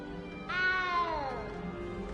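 A frightened cat in Hogwarts Legacy lets out a single drawn-out meow that slides downward and fades, close and clear over quiet background ambience.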